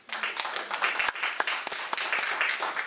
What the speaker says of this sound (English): I really do appreciate a round of applause from everybody.